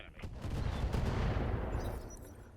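Mech weapons in the RogueTech battle game unload on an enemy in a dense, sustained barrage of blasts and rumbling impacts that swells and then slowly fades.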